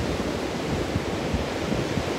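Ocean waves on Asilomar beach roll in a steady, broadband wash of surf, a continuous roar without distinct individual breaks, heard alone with no voices.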